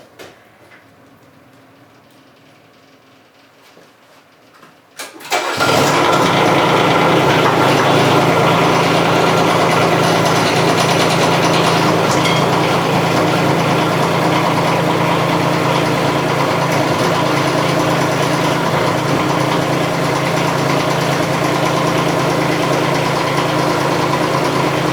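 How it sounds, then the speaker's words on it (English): A Kubota U10 mini excavator's engine starts after near-quiet, then settles into a steady, loud diesel idle that runs unchanged for the rest of the clip. "start up the excavator and swing it so it's over here"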